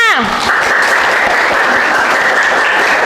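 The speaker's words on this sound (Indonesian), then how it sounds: "Tepuk tangan buat kelompok 5." A classroom of people claps steadily for a student group, a dense wash of applause that starts right after a brief sliding tone and continues without letting up.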